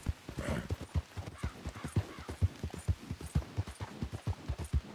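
Horse hooves clip-clop at a steady walking pace in Red Dead Redemption, a regular rhythmic clatter of hoofbeats close up, with no talking.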